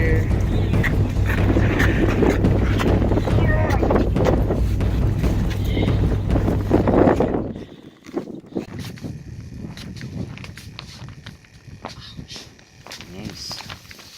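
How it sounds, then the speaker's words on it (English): Strong storm wind sweeps across an ice-fishing oxbow pond, a loud buffeting roar against the microphone for about seven seconds before easing to lighter gusts, with voices faintly present. "As you can see, it's very windy here."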